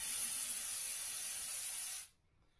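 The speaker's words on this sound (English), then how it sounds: "if I take some brake clean to it, it may clean it up." Brake cleaner sprays from an aerosol can onto a Kawasaki KX450F dirt bike piston, a loud, steady hiss lasting about two seconds that cuts off abruptly into near silence.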